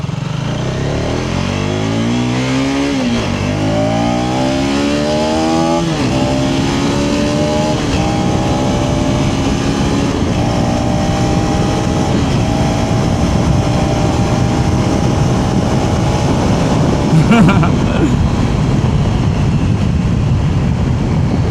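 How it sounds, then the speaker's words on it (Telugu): A KTM ADV 250 motorcycle pulls away in first gear, its engine loud and close, the pitch climbing steadily as it accelerates and holding a continuous drone throughout. "ఓకే, ఫస్ట్ గేర్ వేసాను."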